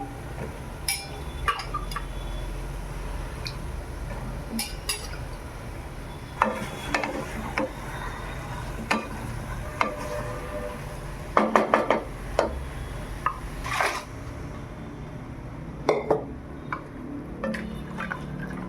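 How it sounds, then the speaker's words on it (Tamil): Mutton bone thalcha being stirred in a cooking pot, with repeated scrapes, clinks and knocks of a ladle against metal over a low bubbling simmer, irregular and close, busiest near the middle. "கையிலால் போட்டு பச்சை வடை போகிற அளவுக்கு கிண்டி விட்டுருவோம்"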